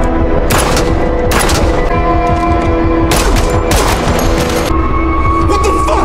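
Loud gunfire in an action movie trailer: several sharp shots and volleys land among heavy, dense music and effects, then a tense hum continues under the mix.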